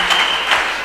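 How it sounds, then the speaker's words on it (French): A church congregation applauds in praise, with dense, continuous clapping that swells slightly in two brief surges and stays loud and close throughout. "donner une offrande d'acclamation à Jésus"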